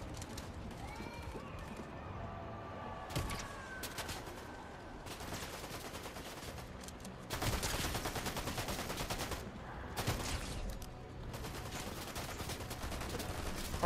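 Gunfire in Fortnite, bursts of rapid shots cutting in and out over a low background, with a dense sustained volley in the middle and scattered shots after it, fairly faint overall.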